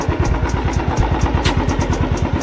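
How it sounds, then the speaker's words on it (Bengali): A Royal Enfield Classic 350 UCE BS6 motorcycle, fresh from a full master service and engine work, idles close by with a steady, rhythmic low thump of evenly spaced firing pulses. "তো আপনাদেরকে আবার ইঞ্জিনের সাউন্ডটা শুনিয়ে দিই।"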